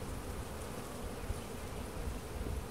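Honeybees buzz densely over an opened beehive during an early-season inspection, a close, continuous hum that stays even and fairly quiet throughout.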